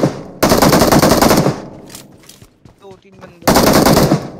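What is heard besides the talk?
UMP submachine gun firing in a mobile shooter video game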